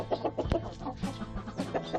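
Chickens cluck in a quick, continuous stream close by, with overlapping soft calls and scratchy movement throughout.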